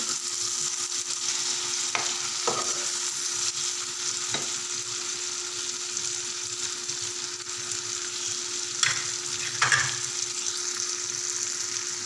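Potato masala fries and is stirred in a pot, giving a steady sizzle with occasional spoon scrapes and clinks, close and alone without any talking.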